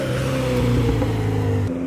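Cars roll out of a car meet with a loud, close engine drone and steady revving throughout, then the sound drops away at the very end.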